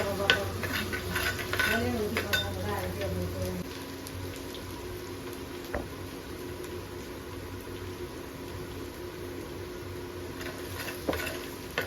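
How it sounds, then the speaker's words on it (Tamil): Onions sautéing in a pan with crushed garlic for fish kulambu, a close, even sizzle with spoon clinks and scraping stirs, busier at first and then settling into a softer hiss. "பாருங்க, வெங்காயம் நல்லா வதங்கிட்டு இருக்கு."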